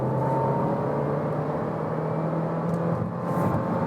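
A VW Golf 8 R-Line pulls hard in third gear at around 80 km/h, giving a steady, continuous engine drone and road rumble from inside the cabin with no break in the sound.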